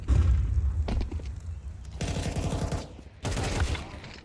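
Burst-fire volleys from MP9 and Five-SeveN style weapons in a competitive Counter-Strike match, loud rapid crackling shots in two separate bursts with thuds between, under faint talk.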